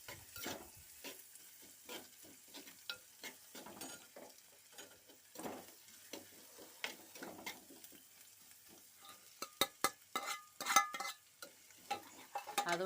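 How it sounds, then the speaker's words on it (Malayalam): A spatula scrapes and stirs sautéing ingredients in a pan while making koorka (Chinese potato) mezhukkupuratti, with a steady soft sizzle and sharper clacks of the utensil against the pan, some grouped near the end. "ഒന്ന് ഇളക്കി കൊടുക്കുക. അപ്പോൾ ഒന്ന് ചെറുതായിട്ടൊന്ന് വഴണ്ടി വരുമ്പോൾ"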